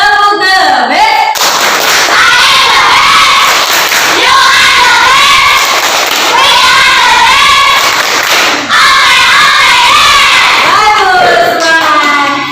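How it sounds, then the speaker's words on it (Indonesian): Group of schoolchildren in a classroom performing the rhythmic clapping chant "tepuk the best" for the last discussion group, loud sustained chanting voices with sharp claps and thumps throughout, close and energetic. "Kita beri tepuk the best untuk kelompok terakhir, kelompok 2."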